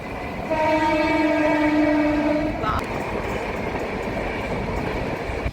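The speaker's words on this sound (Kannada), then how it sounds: "ಅಯ್ಯೋ, ಟ್ರೈನ್ ಬಂತು ನೋಡಿ." A train horn blares for a couple of seconds, then the rumbling, rattling roar of a passing train continues steadily and close by, near a mangrove forest.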